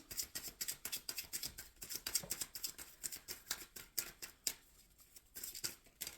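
A deck of tarot cards is shuffled by hand close by, giving a long run of quick, crisp riffling snaps in a steady rapid rhythm with brief pauses, quiet and without voices.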